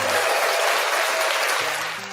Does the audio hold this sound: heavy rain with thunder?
no